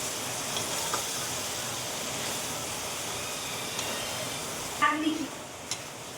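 Cumin, ginger-garlic and green chili paste sizzling in a pan while being stirred, a steady hissing fry with a few brief scrapes and clinks near the end, no talking.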